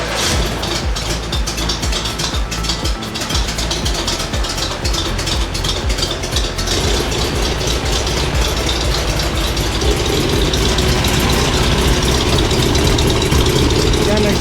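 A VW Bus engine with a new electric fuel pump and an exhaust leak cranks and starts, then settles into a steady rumbling idle that grows slightly louder, with a person talking over it.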